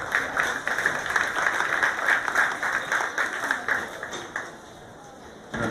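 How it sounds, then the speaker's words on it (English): A crowd at the 2020 Humboldt County Fair gives a sustained round of applause, dense overlapping clapping that thins out and fades near the end. "let's give them a little round of applause for all they do to make today's show happen"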